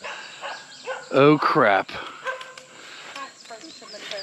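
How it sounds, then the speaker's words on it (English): Dogs bark up the road beside an old forgotten cemetery, a short burst of several barks in the middle, fairly close, with someone speaking before and after. "There's doggies up the road."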